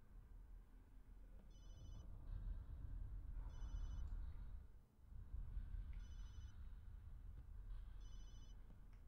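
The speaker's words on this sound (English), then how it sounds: "That must be Ashley calling me. I should have turned off my cell phone." Cell phone ringing inside the survival horror video game Obscure, four evenly spaced electronic ring bursts over a loud low rumbling game soundscape, with no talking.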